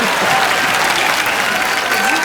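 A television comedy show's studio audience gives loud, sustained applause for a singer, a dense wash of clapping with faint crowd voices underneath.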